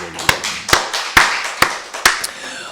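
Clapping from a congregation at a Korean church's Wednesday evening service: a few sharp, separate claps spaced roughly half a second apart, loud and close.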